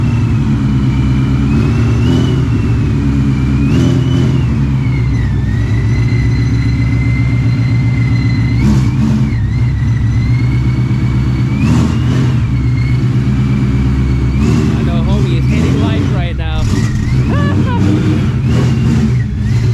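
A supercharged Shelby GT350 running a 105mm pulley and new belt revs hard on a dyno, a loud, sustained engine roar that climbs and falls in pitch with rising whine, close and dominant throughout.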